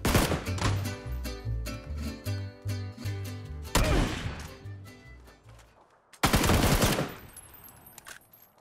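Rapid gunfire bursts in PUBG, close and loud, with repeated sharp shots in a rhythmic run followed by heavier blasts and a final loud volley, no talking.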